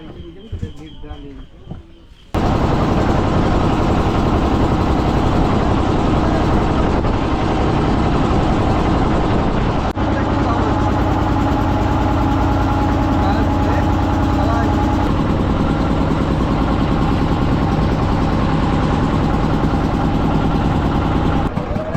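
A hired motorboat on a river in the Sundarbans starts with a few seconds of quieter sound and voices, then its engine drones loud and steady from close by, with people talking over it.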